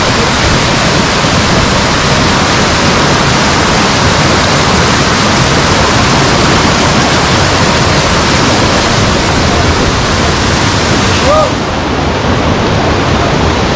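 The Ava Ore waterfall, a large cascade, roars as a loud, dense, unbroken wash of falling water heard close up, with no pauses and no clear talk over it.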